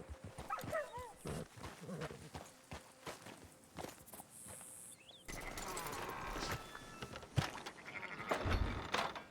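Sheep bleating in the video game Red Dead Redemption 2, several wavering cries over footsteps and ambient noise, with a dog barking at moments and an abrupt shift partway through.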